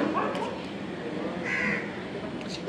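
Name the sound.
birds calling at the beach in the evening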